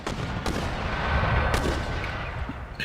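Mortar shells firing and bursting in Empire Total War, a few sharp booming thumps spaced over a rumbling battlefield din, loud and close.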